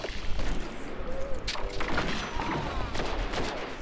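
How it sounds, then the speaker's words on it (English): Sniper rifle shots and rapid gunfire in a Destiny 2 firefight on PS5, loud crackling bursts running continuously through the clip with a couple of sharper cracks, a busy combat mix. "Sniper rifle, hoping I hit."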